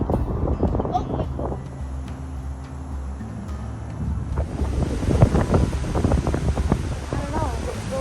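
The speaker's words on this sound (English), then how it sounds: "Oh, it's so windy." Gusty wind buffets the microphone on a morning hike, rumbling low and uneven throughout while people talk nearby.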